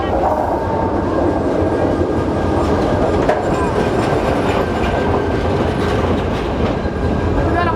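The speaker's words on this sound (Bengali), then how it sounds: "এই মুহূর্তে অবশেষে আমাদের ট্রেনে দেখা পেলাম, ট্রেন আসছে" A loud passenger train pulls into a crowded station in Bangladesh, with heavy continuous rumble, clickety-clack of wheels over rail joints and faint wheel squeal, nearby crowd voices under the din.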